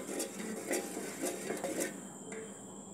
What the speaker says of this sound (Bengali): ভালো করে জাল করে নেব আর নেড়ে দেবো যাতে করে নিচে লেগে না যায়।